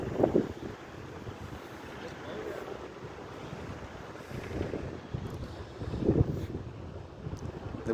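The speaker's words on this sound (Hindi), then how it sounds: "क्योंकि हवा बहुत तेज़ है" Strong wind sweeps across Ajman Beach, lifting sand. It makes a steady, roaring buffet against the microphone, with heavier gusts swelling near the start and again around the sixth second.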